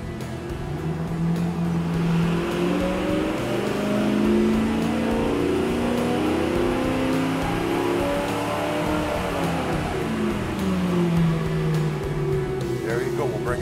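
A rebuilt engine on a dyno roars loud and close through a sustained pull. Its pitch rises and falls in smooth sweeps over a steady, dense mechanical drone.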